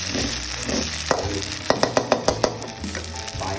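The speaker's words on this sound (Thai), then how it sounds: "เส้นลงไป ผัดไปเรื่อยเรื่อยนะ" Noodles being stir-fried in a pan for Thai suki, with a steady close sizzle and a quick run of rhythmic spatula scrapes and taps against the pan in the middle. No one speaks.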